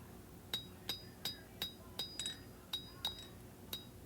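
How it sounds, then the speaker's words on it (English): A hammer strikes a knife blade being forged, about eleven evenly spaced, ringing metallic blows with a bright clink, fairly faint against a quiet background. "Hammer it down."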